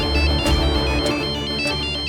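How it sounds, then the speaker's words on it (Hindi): A phone ringtone plays loudly and steadily, a repeating electronic melody filling the whole moment. "एक्सक्यूज मी, मुझे एक फोन आ रहा है।"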